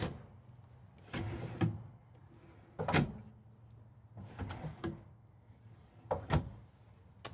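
Bedroom drawers in a 2026 Renegade Verona 40VBH Super C motorhome being opened and shut, several sharp wooden knocks and sliding thuds in irregular pairs, close by with no talking.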